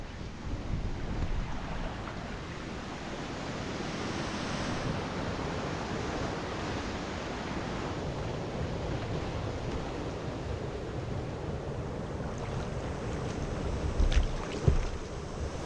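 Small waterfalls on the Mississippi River during low water, on a backcountry canoe loop, give a steady broadband rushing roar that stays constant throughout, with a few brief knocks near the end.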